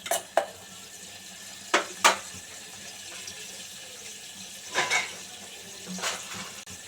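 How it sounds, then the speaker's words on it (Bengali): Onions fry in a pan on the way to browning for pulao, a soft continuous sizzle with a few sharp scrapes and clinks of a spatula stirring at irregular intervals. "আমি পেঁয়াজটা ব্রাউন করে নেব।"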